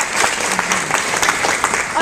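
An audience at an event marking the Americans with Disabilities Act anniversary bursts into dense, continuous applause, many hands clapping close and loud throughout.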